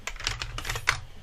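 Fingers tap a quick burst of keystrokes on a computer keyboard, several close, crisp clicks in a short run.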